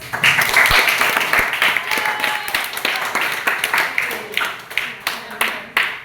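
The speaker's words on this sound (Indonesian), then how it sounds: "Berikan aplaus." Applause in a school classroom: a burst of clapping from many students that starts loud, then thins into scattered, uneven claps and taps fading toward the end, close by.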